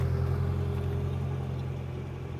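A steady, low engine drone runs throughout, constant and fairly loud with a deep rumbling hum and no voices.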